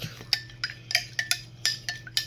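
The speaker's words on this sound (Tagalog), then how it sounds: "Ugasan kasi yung baso ko na maliit." Washing a small drinking glass produces a string of bright, close clinks and taps in an uneven rhythm, about a dozen in quick succession over a low steady hum, with no talking.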